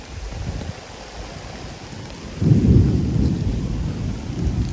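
Distant thunder from a thunderstorm rolls low over a farm garden, a soft rumble swelling midway and lingering, with steady rain hiss beneath and no talk.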